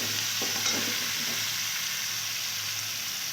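Prawns, watermelon and potato fry in a pan, a continuous soft sizzle with a few faint stirring scrapes early on, steady and fairly quiet throughout.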